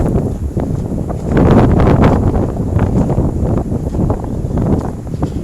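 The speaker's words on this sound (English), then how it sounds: "that wind is really strong" Strong gusting wind buffets the microphone outdoors on a downtown walk, a loud continuous low rumble that swells and surges throughout with no speech.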